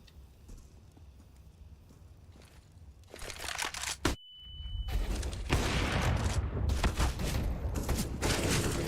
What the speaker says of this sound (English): Shots, Simple and Electronic getting the better of them